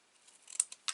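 Scissors snipping through a paper album page, a few short, crisp cuts spaced irregularly and growing sharper toward the end, close and quiet with no voices.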